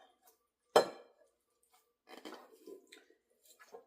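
A spoon knocks once against a bowl while ground beef, tomatoes and rice are mixed together, followed by soft, wet squishing and stirring sounds, close by and fairly quiet, with no one talking.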